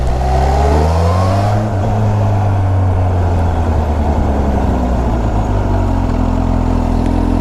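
A supercharged Kawasaki H2 SX motorcycle accelerating on a test ride, its engine droning loud and close with rising then steady pitch through a gear change, wind rushing continuously over the whole run.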